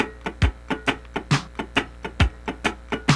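Muted, scratched electric guitar strums in a swung sixteenth-note funk rhythm over a drum machine, with steady percussive chops alternating long and short, played close and alone.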